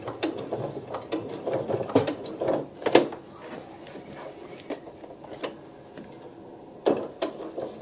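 Sewing machine stitching back and forth on a fabric bib, short bursts of rapid mechanical clatter with brief pauses between passes, fairly close.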